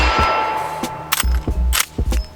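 A Henry .45 Big Boy All Weather lever-action rifle is fired outdoors, with several sharp loud cracks spaced about half a second apart, each followed by a brief ring.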